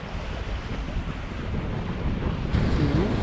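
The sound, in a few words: wind at sea on a sailboat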